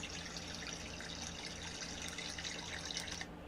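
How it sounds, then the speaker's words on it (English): Steady running water pours continuously, like a tap or stream, with a constant hiss and no voices. "It's just called water.mp3 or flowingwater.mp3"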